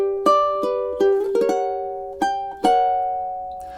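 Fingerstyle picking on a high-G ukulele: clean plucked notes, each ringing and slowly fading, sounding singly and in small chord clusters at an unhurried pace, with no voices.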